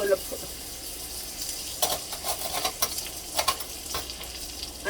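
Butter melts and sizzles in a pan on a turned-down stove, a low steady crackle with scattered sharper pops and stirring clicks, close and fairly quiet.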